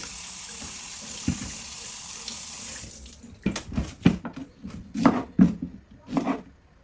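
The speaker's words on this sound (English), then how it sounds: "I will wash my plantain." Plantain being washed under a running kitchen tap while yam cooks nearby: a steady close stream of water for the first few seconds, then irregular splashes and rubbing bursts as the fruit is handled under the flow.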